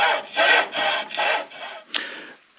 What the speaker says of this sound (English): we're just going to use the hacksaw